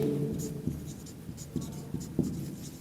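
Pen or pencil writing out maths working on paper, faint close scratching strokes with small taps at irregular intervals in a quiet room.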